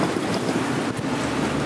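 Strong wind gusting past 30 knots roars steadily across the microphone on a boat at anchor in the Sea of Cortez, with a broad whooshing rush and a slight dip midway, and no one speaking.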